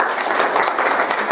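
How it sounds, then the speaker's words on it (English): An indoor audience claps together in a short, dense, loud burst of applause, steady from start to finish. "And a round of applause for these guys."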